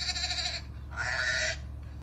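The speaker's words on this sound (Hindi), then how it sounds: "it was the sound of sheep" A sheep bleats twice, each a long, wavering, nasal cry of about half a second, close and fairly loud with a short pause between them, over a low steady hum.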